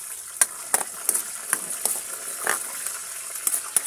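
Sugar stirred into sizzling bagoong in a pan: a steady fry with repeated scraping clicks of a spoon, fairly close and moderately loud, with no talk.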